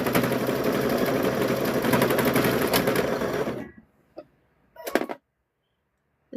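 An embroidery machine stitching at speed, a loud rapid mechanical chatter that runs steadily for several seconds, then stops abruptly, followed by a few short clunks and a brief burst of stitching.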